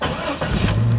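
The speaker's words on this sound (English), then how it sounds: "We got it starting really good with the ignition now." Jeep Cherokee engine cranking on the ignition and catching, settling into a loud, steady idle close by.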